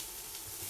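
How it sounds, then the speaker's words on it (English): Zucchini sizzles in a pan while cooking for tacos, a soft, continuous crackling hiss heard up close and quietly, with no talking. "You're going to be cooking the zucchini. You can already see it sizzle."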